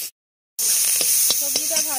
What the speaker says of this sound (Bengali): লবণ দিয়ে এবার ভেজে নেব সবজিটা।